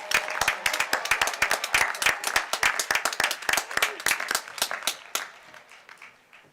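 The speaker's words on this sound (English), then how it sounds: "So let's give our doctoral degree graduates another round of applause." Applause from a commencement audience for doctoral degree graduates at a spring graduate ceremony: dense, steady clapping from a large crowd that thins and fades away over the final second.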